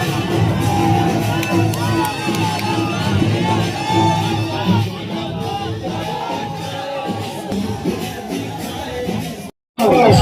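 A large crowd at Prashant Kishor's Badlav Yatra political rally in Katihar, Bihar, cheers and claps continuously, with whoops and shouts rising over a loud, dense roar before a brief cut.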